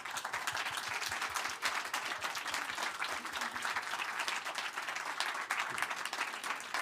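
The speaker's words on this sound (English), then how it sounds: "super warm round of applause." A large conference audience applauds warmly and steadily throughout, a dense, sustained wash of many hands clapping at even loudness with no voices rising above it.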